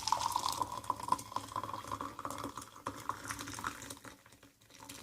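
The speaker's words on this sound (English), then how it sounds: "we're going to see what happens when we pour in some hot water in this mug" Hot water from a kettle is poured into a mug, a steady trickling, filling sound with small clicks throughout that fades toward the end.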